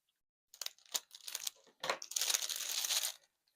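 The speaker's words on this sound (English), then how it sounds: "Get rid of that noisy paper. A crinkly paper." Crinkly paper wrapping being torn open and crumpled close up, starting with sharp separate rustles that build into a continuous loud crackling before stopping abruptly.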